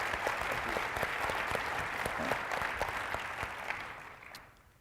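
Audience applause at a legislative panel conference, steady dense clapping from a crowd that holds for several seconds and then begins to fade near the end.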